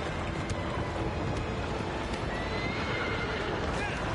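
A horse neighs and its hooves pound in the video game Shadow of the Colossus, set against a loud, constant wash of wind or rushing noise that keeps the hoofbeats indistinct.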